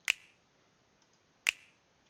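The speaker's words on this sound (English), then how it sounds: "And then just have these clicks" Two crisp, dry click hits from a melodic drill beat, spaced well apart and played alone, each a sharp snap-like transient with a short tail.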